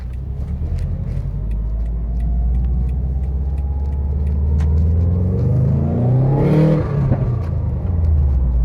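A Subaru WRX with a manual transmission, driven after a transmission replacement, rumbles loudly from inside the cabin, its engine note climbing through acceleration with a whooshing rise near the end.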